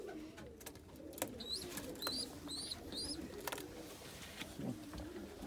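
Pigeons coo inside a loft housing frost stencil and grizzle homers, with babies near weaning and birds sitting on nests. Short, repeated higher calls stand out over a steady low murmur of cooing and rustling, fairly close and moderately loud.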